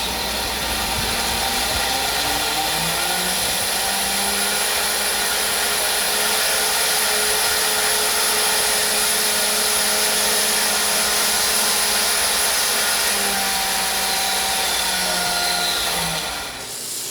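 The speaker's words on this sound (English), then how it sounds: "all I've been doing is just slowly shaping this with 80 grit sandpaper" A steady, continuous whir of a wood lathe spinning a maple box part against 80-grit sandpaper, with a rough abrasive hiss, loud and unbroken throughout.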